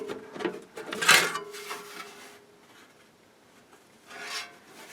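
Metal cover of a Harman Kardon hk503 integrated amplifier being slid off, with a few close scraping and rubbing sounds, one sharp loud rasp, then quiet and a final softer scrape.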